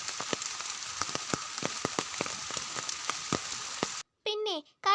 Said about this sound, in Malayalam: ഇലയിലേക്ക് ഇങ്ങനെ മഴത്തുള്ളികൾ ചാടുന്ന ശബ്ദം നല്ല രസമാണ്.